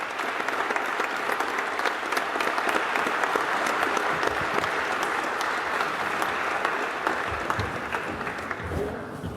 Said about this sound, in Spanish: ahí está el aplauso que le están haciendo, obviamente, todos los senadores, todas las bancadas